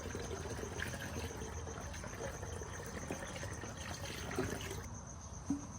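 Water trickles and gurgles steadily into the coolant reservoir of a ready mix truck, a soft continuous pour heard up close, ending with a faint splash.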